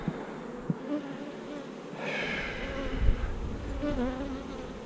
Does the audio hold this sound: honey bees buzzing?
yes